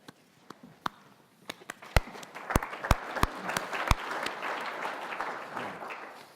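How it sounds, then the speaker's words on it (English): Audience applause at a government innovation panel discussion, starting with scattered single claps that build into a fuller, moderately close round of clapping before fading out. "You shouldn't applaud, you haven't heard me yet."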